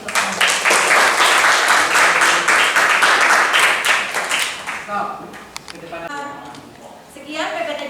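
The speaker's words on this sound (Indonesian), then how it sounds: "aplaus untuk Anda" A class of high school students applauds a peer-teaching presenter, with a steady burst of many hands clapping for about five seconds before it thins out into scattered claps and murmuring voices.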